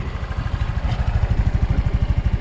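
A Vitacci Tank 200 Deluxe scooter engine idling, a low, even pulsing putter with a steady rhythm and a faint mechanical clatter, heard close by and fairly quiet.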